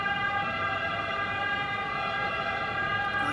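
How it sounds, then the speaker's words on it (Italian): An ambulance siren goes by outdoors during an Italian talk, a loud continuous wail with no speech over it. "Lasciamo passare l'ambulanza."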